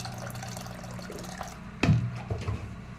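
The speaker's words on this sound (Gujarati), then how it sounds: "તો પાણી આપણે પહેલાં એડ કરી દઈશું," Hot water is poured into a pot of dried peas: a soft splash lands abruptly and settles into brief, faint sloshing over a quiet kitchen background.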